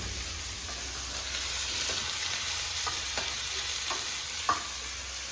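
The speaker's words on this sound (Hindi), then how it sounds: "प्याज को कर लेंगे हम ऐसे हल्का सा ब्राउन।" Onions frying in a pan on a home kitchen stove, a steady sizzle with soft scraping strokes of stirring, no voices.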